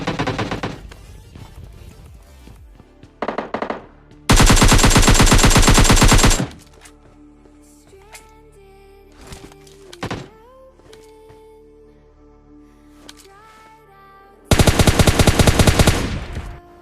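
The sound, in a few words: gunfire in a battle royale mobile video game fight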